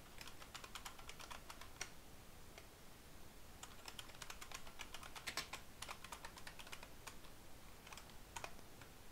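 Rapid bursts of computer keyboard typing, clicking in irregular runs with brief pauses, fairly quiet and close.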